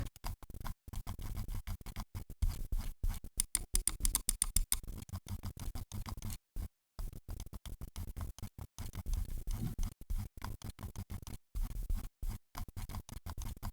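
A Proove Gaming mouse is operated up close, giving a long run of quiet, rapid ratcheting ticks from the scroll wheel mixed with light plastic button clicks and brief silent gaps.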